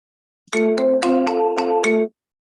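Phone ringtone playing a loud, clear melodic sequence of about six bright electronic tones, ringing for around a second and a half before cutting off.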